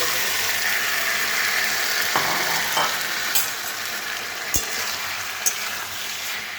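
Chili paneer with kasuri methi sautéed and stirred in a wok: a loud, dense hiss of frying with a few spatula knocks and scrapes against the metal.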